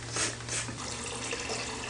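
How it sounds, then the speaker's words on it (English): Filtered water pours steadily from a refrigerator dispenser into a kitchen pot for vegetable soup, a continuous close splashing stream with no talk over it. "This is filtered water from the refrigerator."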